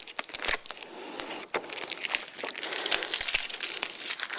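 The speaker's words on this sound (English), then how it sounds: "We then remove the pieces of tape" Strips of excess tape peeled off and removed from a vinyl fingerprint lift taken from a window, giving a steady crinkling, crackling rustle with sharper tearing snaps, close and fairly quiet, with no talking.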